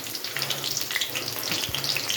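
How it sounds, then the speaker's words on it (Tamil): Fenugreek seeds fry in hot oil in a pan, giving a close, steady sizzle with scattered crackles and small pops. "வெந்தயம் பொரிய ஆரம்பிச்சிருச்சு."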